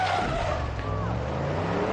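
A car in the video game Far Cry 6 drives with a steady loud engine roar, and its tires squeal and skid throughout, with faint talk in the background.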